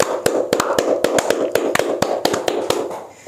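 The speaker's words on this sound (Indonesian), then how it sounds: "Tepuk tangan buat Tuhan Yesus dulu." Sharp, irregular hand claps from a small church congregation applauding for Jesus, a steady scatter of distinct slaps with no talking over them.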